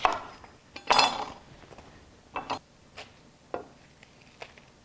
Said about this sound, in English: We take an onion and some garlic, and we're going to chop that up.